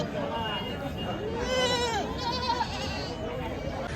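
Several goats bleat in wavering cries amid a busy crowd at the Sakur goat market, with voices chattering all around.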